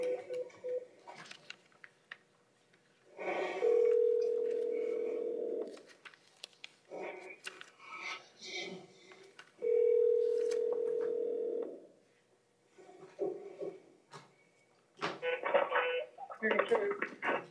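A phone call placed to a cell phone from a courtroom: steady dial tones with bursts of keypad dialing beeps, separated by short stretches of background talk and shuffling, fairly clear and close.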